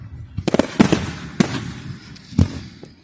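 A fireworks display with a burst of several quick crackling pops followed by a few separate booming explosions, fairly close and loud, fading between blasts.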